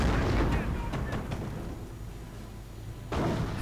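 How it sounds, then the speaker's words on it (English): Artillery barrage striking a Sturmgeschütz assault gun in a strategy war game, heavy booming impacts and rumbling blasts, a loud burst at the start, a long rolling tail, then another close blast near the end. "another artillery barrage right there on the Sturmgeschütz"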